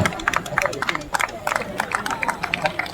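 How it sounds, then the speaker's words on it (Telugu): Crowd clapping to welcome a flag hoisting at the grand opening of a state Kho-Kho meet in Nalgonda, dense steady applause with scattered sharp claps and crowd murmur, near and continuous. "మన కూడా గట్టిగా చప్పట్లతో వారికి స్వాగతం చేస్తున్నాం"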